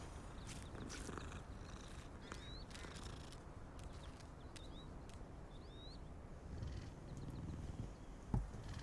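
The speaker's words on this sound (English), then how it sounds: "I can pet cats in this game, dude." A cat in the video game Hogwarts Legacy purrs softly and steadily as it is petted, a faint low continuous rumble with occasional small chirps and clicks around it.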